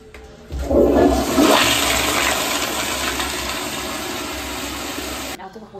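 Toilet flushing in a public restroom, a loud surging rush of water that starts abruptly, runs steadily for about five seconds, then cuts off close to the listener.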